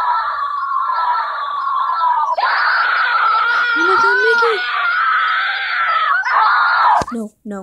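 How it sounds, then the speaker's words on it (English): Shrill, sustained screaming rises and wavers for several seconds from the Suicide Mouse animation, loud and dominant, before breaking off abruptly near the end into a short burst. "Over those screams."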